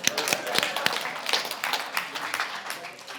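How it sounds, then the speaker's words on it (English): Audience clapping at a regional business event, a busy patter of hand claps with scattered sharper slaps running steadily throughout, moderately loud and fairly close. "give her a round of applause"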